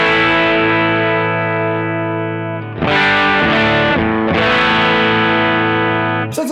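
An electric guitar played through a Nobels ODR-1 overdrive pedal at low gain rings out in sustained chords, with a long, thick sustain across two restruck chords and a bright transient at the end, loud and close with no talking.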